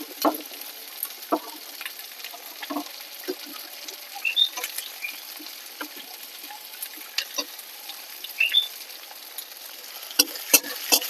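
Onions frying in a pan for chicken pulao, a soft continuous sizzle broken by scattered scraping and clicking stirs, fairly quiet and close with no voices.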